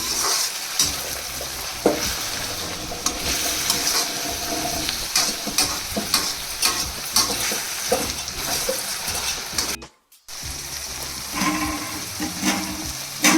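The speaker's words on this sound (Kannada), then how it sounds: "ಇದನ್ನು ಬಾಡಿಸ್ಕೋಬೇಕು ಚೆನ್ನಾಗಿ" Beaten rice (avalakki) with chopped tomato fries in a pan, giving a loud continuous sizzle with frequent scraping stirs and knocks of a spatula. One brief silent gap comes near the end, with no voices.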